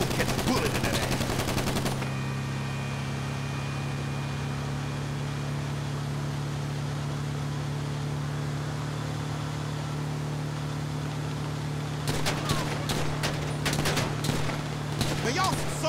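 Gunfire in GTA Online comes as bursts of rapid shots at the start and again near the end, with a steady engine-like drone and a voice in between.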